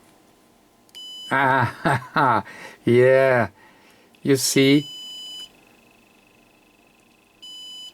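A Yaesu FTM-200 radio being checked for a faulty audio jack gives a steady high electronic beep in two stretches, near and clear, with someone talking briefly between them.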